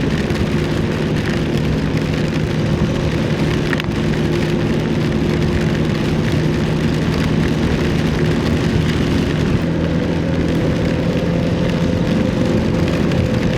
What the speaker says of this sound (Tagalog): Ang lakas ng ulan dito pala.